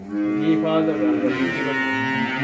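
Cattle low steadily at a calf farm, a close, continuous harmonic moo that holds for over two seconds with faint voices underneath.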